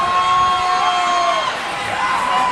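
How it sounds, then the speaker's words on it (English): Crowd cheering and shouting at a high school hockey game between Granite City and Alton, a loud, brief burst of roaring voices close around. "That move got this crowd riled up"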